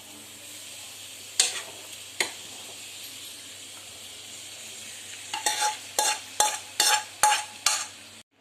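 Cooked marinated chicken pieces being spread in a pot on a medium flame, with soft sizzling underneath and a series of sharp spoon scrapes and knocks against the pot, sparse at first, then quick and rhythmic.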